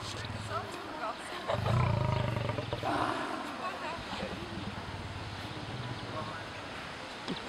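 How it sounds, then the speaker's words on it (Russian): A lioness on a beach growls with a deep, rumbling roar that swells loudest early on, then fades. Waves and wind hiss in the background, and people talk throughout. "Будешь рычать, да?"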